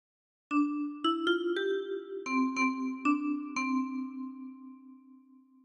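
A 10-key kalimba plucks a simple melody of Hark the Herald Angels Sing, each bright metallic tine note ringing and overlapping the next, clear and close with no voices.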